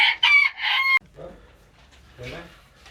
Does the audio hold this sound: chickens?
yes